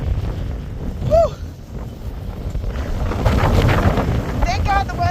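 Strong blizzard wind with gusts of up to 60 miles an hour roars into the microphone as a steady, loud buffeting rumble, and brief faint voices or squeaks break through it.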